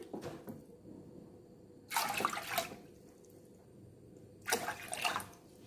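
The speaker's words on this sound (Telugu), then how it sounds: "మూడు కప్పుల నీళ్ళు వేసుకున్నాను." Water is poured into roasted, washed toor dal in a pot in two short splashing bursts, each lasting under a second, separated by quieter kitchen background.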